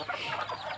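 Brief soft clucking from chickens nearby, a few quick murmuring notes.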